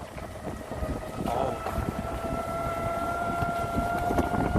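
Wind gusts across a golf course near Ho Chi Minh City, a steady close rushing rumble on the microphone with a faint tonal hum underneath, rising slightly midway and holding.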